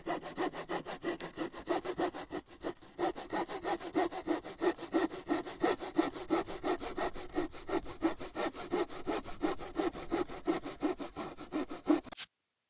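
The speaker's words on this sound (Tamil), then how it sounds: "ரம்பம்." A handsaw cutting through wood in steady rapid back-and-forth strokes, rasping and rhythmic, close and loud for the whole stretch before stopping abruptly.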